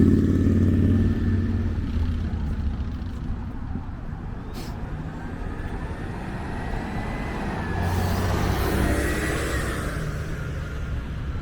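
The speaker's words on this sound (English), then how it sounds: "And we have so many cars and trucks." Steady road traffic of cars and trucks passing along Lawrence Avenue West in Toronto, a continuous rumbling wash with a heavier vehicle swelling closer near the end.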